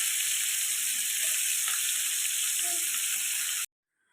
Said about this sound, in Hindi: फ़िश को 5 से 7 मिनट तक एक साइड से पकाने के बाद हर तरफ से इसको अच्छी तरह से मैंने फ्राई कर लेना